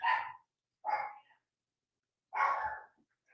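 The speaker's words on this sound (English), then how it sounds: "So the dog's barking now, and of course, little Chihuahuas like to yap and all that." A small Chihuahua yaps at a package delivery: three sharp, close barks, two quick ones and then a third after a pause, with no talk.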